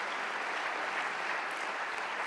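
Steady applause from an audience at an economic conference keynote, a continuous even wash of clapping heard from some distance with no speech.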